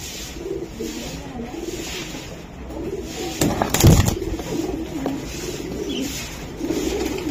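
Racer pigeons cooing in a loft, soft low repeated coos close by with a brief louder flutter or rustle midway and steady background murmur.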